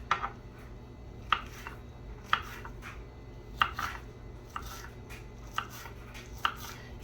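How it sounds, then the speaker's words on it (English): A knife chopping an onion on a cutting board, with sharp, evenly spaced taps about once a second, close and clear, over a low background hum with no talking. "I'm going to cut an onion."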